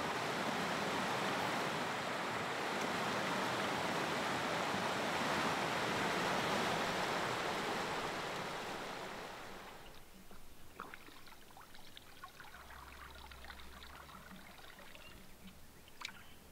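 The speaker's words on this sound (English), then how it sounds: "But there's a nice rapid here" Rapids rushing near a portage in Algonquin, a loud broadband roar of fast water for about ten seconds that then drops to a quieter, steadier flow with a few small splashes and knocks close by.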